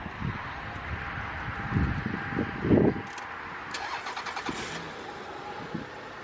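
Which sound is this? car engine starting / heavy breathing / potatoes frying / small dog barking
car engine starting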